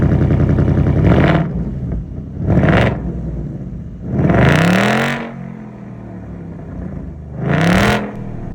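A 2025 Ford Mustang Dark Horse with its high-output Gen 4 Coyote V8 revs and accelerates in four loud, rising surges, each one separated by a lower idle rumble.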